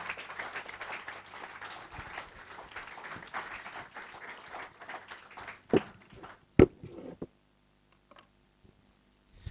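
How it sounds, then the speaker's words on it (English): An audience at an IAS coaching institute's ceremony gives sustained applause that fades into a few scattered claps and footsteps before the room falls quiet. "can I have a big round of applause for Jasmeet"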